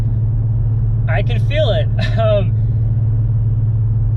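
Cabin drone of an Infiniti G35 or Nissan 350Z cruising with a 3.69 rear differential, a steady low engine hum lasting throughout, with someone briefly speaking over it midway.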